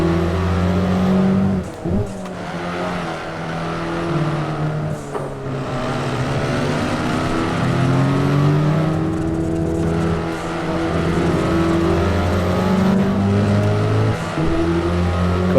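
A Dacia Sandero RS engine drones and revs steadily on the Transfagarasan hillclimb in a racing game, loud and continuous, with pitch rising and falling through gear changes and brief dips in power.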